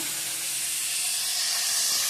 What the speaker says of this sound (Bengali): ভালো করে ভাজা ভাজা করে নিই